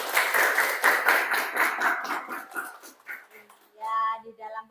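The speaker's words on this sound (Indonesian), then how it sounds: "Tepuk tangan dong." A classroom of people claps hands together in a brisk burst of applause for about three seconds, loud and close, then fades into scattered taps and a brief voice.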